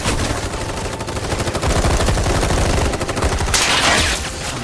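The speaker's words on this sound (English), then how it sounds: "Whole freaking army unloading on my position." Dense, continuous volleys of gunfire from an army of enemies shooting at the player in a video game, loud overlapping bursts and rapid shots with no pauses throughout.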